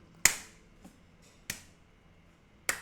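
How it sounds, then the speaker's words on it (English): Three sharp, isolated claps from a single person during a Karambits build game, spaced about a second apart, close and crisp over a quiet background. "That's me clapping to myself"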